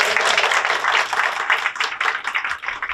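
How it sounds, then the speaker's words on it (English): An audience at a high school Student of the Month recognition claps and applauds continuously, a dense, steady wash of clapping filling the room throughout. "So please give him a big round of applause."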